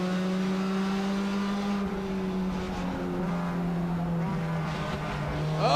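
Stock cars race at Tucson Speedway, their engines droning loudly and shifting in pitch as cars pass close by, with an announcer talking over the steady roar throughout.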